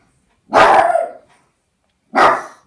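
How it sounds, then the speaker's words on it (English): A dog barks twice, loud and close, with a pause between the two sharp barks. "Sorry, there's going to be barking because he's just been like, he's being a guard dog again"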